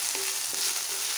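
Tomato and chilli frying in a pan for a stale-chapati kurma, a steady close sizzle with faint stirring scrapes throughout, no voices.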